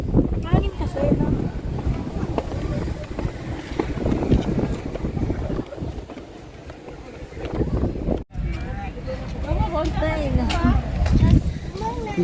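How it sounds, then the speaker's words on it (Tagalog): Wind blows steadily during a tourist boat ride in Bohol, with rushing gusts and water noise throughout while people talk over it. "Mahangin kasi, no?"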